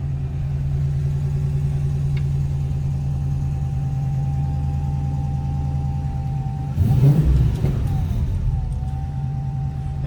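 A 1971 Plymouth Barracuda with a 6.1 Hemi V8 and mild cam and exhaust idles with a steady low rumble, then gives a short rev near the seven-second mark before settling back to idle, heard close up.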